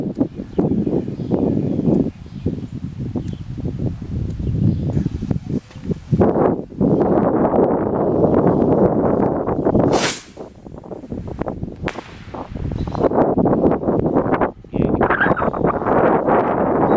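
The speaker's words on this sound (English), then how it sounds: "Sort of wind's blowing." Wind gusts roar and buffet against the microphone outdoors at a Fourth of July gathering. The loud blasts start and stop abruptly, and people talk between them.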